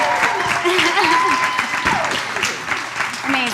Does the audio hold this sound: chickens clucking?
no